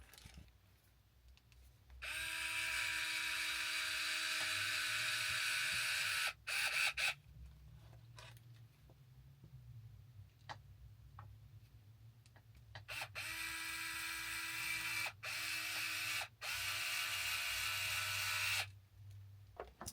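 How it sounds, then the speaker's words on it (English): A power driver spins screws into a light bar on a Traxxas Pro Scale sand car, several sustained whirring bursts separated by short pauses and clicks, close and alone. "we're going to go ahead and screw in our screws"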